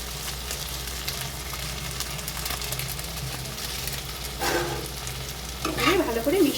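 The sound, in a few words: chicken being stir-fried and mixed in a pan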